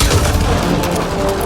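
Gunfire rattles through a combat scene in Mass Effect: Andromeda, a loud, dense burst of overlapping shots and booms that carries on without pause.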